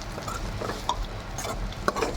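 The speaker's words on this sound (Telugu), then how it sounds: "మంట అయితే లో ఫ్లేమ్లో పెట్టి బాగా కలుపుకోవాలి." A spoon scrapes and stirs a dry peanut, coconut, chilli and garlic powder mix in a pan over a low flame, with soft irregular scrapes and a couple of sharper clinks against the metal.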